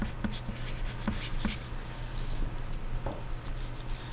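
A pen or pencil writes a name on the back of a sheet of paper, giving soft close scratchy strokes in short bursts over a faint steady hum, with no talking.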